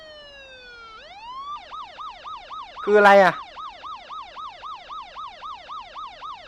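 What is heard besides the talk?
police siren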